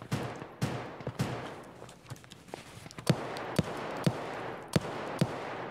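Scattered gunshots echo from far off in Escape From Tarkov, sharp isolated cracks spaced irregularly over a quiet background, with a few softer shuffling sounds between them.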